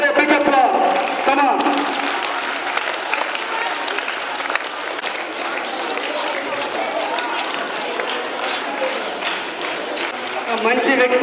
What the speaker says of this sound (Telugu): ఆవిడ చప్పట్లతో కళకాల ధ్వనులతో ఆవిడకి అందరూ స్వాగతం కలగవలసిందిగా అందరినీ రిక్వెస్ట్